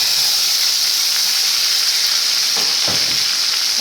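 Ginger-chilli puree sizzles loudly in a hot pan over a high flame for palak paneer bhurji, a steady close frying hiss with brief stirring scrapes near the end.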